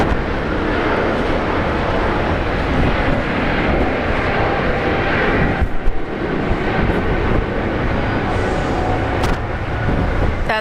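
An airliner, a United jet bound for San Francisco, takes off at Brisbane Airport, its engines a loud, continuous broadband roar with no voices.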